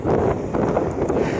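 Wind blows hard across an outdoor microphone beside a Case IH 485 tractor, a continuous loud buffeting rumble with no pauses.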